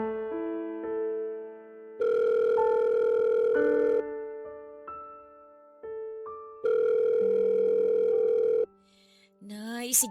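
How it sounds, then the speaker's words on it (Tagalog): A telephone rings with an incoming call, sounding as two long, steady electronic ring bursts separated by softer tonal beeps, and a brief voice is heard at the very end. "Sagutin niyo na po yung tawag."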